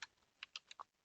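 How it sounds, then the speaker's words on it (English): A few quick, light keystrokes on a computer keyboard while entering a network configuration command, heard as a short, irregular burst of clicks, close and quiet, with no voices. "I'm typing some IP config."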